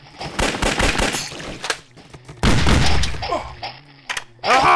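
Bursts of video game gunfire crack loudly in quick clusters, with short gaps and a later volley near the end, the shots close and harsh over a busy game mix.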